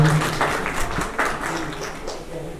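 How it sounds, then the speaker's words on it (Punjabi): Audience applause greets a guest at a school retirement function for a principal: a steady, dense wash of clapping from a crowd that holds across the whole moment without fading. "ਇਹਨਾਂ ਦਾ ਕਿਰਪਾ ਕਰਕੇ ਜ਼ੋਰਦਾਰ ਤਾੜੀਆਂ ਨਾਲ ਸਵਾਗਤ ਕੀਤਾ ਜਾਵੇ"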